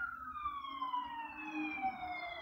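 Ambulance and police car sirens pass on a city street, their wailing tones sweeping and falling in pitch as they go by, fairly faint and at a distance with traffic underneath.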